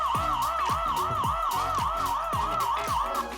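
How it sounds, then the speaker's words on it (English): A Lorex 1080p floodlight camera's siren blares loud and close, a rapid wailing police-style whoop cycling steadily with sharp repeated sweeps throughout. "with the app, you can remotely trigger the siren"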